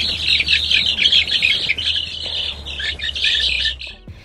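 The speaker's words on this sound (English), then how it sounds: "They actually made a little like alarm chirp" A cluster of two-week-old chicks giving alarm chirps loudly and rapidly, a dense, agitated chorus of high peeps close by, ending with a brief low bump.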